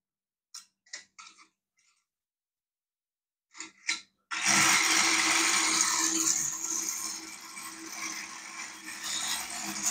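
Drink-can bristle bot: a few light clicks and rattles, then a motor starts and keeps up a loud, steady, harsh buzz with rattling, close by and with no talk.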